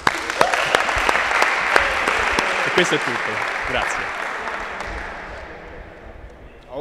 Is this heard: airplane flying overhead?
no